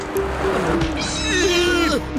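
An animated cat character in a Hindi robot-boy cartoon film lets out a long, wavering, voiced meow that rises and falls in pitch. It is loud and close, with a low background bed beneath it.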